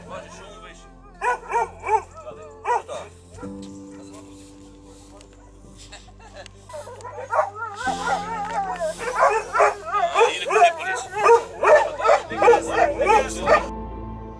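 Twelve hunting dogs bark and yip in bursts before a wild boar hunt at dawn, some whimpering between, with people talking in the background as the barking grows denser and louder.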